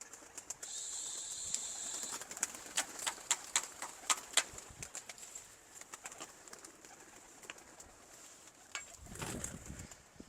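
Pigeons kept at a rural dera in Punjab, with busy bird chirps and calls close by throughout and a few soft flutters, no talk.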